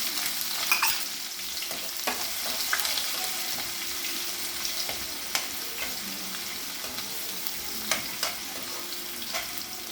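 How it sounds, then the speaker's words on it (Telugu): Dry red chilies and curry leaves fry in hot oil with a continuous close sizzle and occasional stirring scrapes and taps in a pan, no voices. "ఎండుమిర్చి, కరివేపాకు బ్రౌన్ రంగు వచ్చేదాకా వేగింది."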